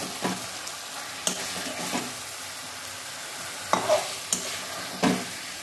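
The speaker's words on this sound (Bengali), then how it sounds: "বেশ মাংসটা পুরো কষা হয়ে গেছে।" Meat being fried and stirred in oil in a pan as the oil separates during slow cooking, a steady sizzle broken by several sharp scraping stirs, close and alone.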